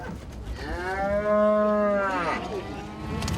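A single cow gives a long, loud, near mooing call at the Cheongju cattle market, rising and then trailing off over a murky background of market noise.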